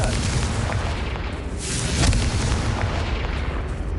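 Confringo fire spell detonating in Hogwarts Legacy on PS5, a loud rumbling blast with a sharp burst near the middle over continuous dense game noise, faint voice present.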